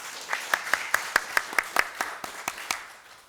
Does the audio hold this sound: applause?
yes